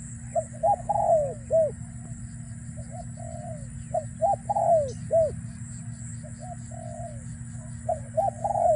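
A dove coos in short repeated phrases, several bursts of low rolling calls separated by pauses, close and clear over a steady low hum.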